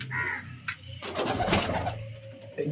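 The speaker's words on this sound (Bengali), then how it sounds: "এই 9টা আমার মাদি পায়রা।" Several female pigeons coo in a loft at a pigeon-racing tournament, a low continuous coo running underneath with a burst of louder, rustling bird sounds in the middle.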